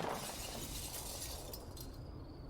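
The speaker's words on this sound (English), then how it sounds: "Glass shatters against my back, showering Carl below." Glass shattering in the video game Echo, a faint burst of breaking and scattering shards that fades over about two seconds.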